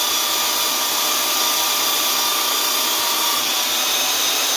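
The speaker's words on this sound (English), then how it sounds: "I'm letting the sandpaper do the work" A powered sander works a tree cookie wood sample with sandpaper, giving a loud, steady, unbroken whine and hiss held close and constant throughout, with no talking.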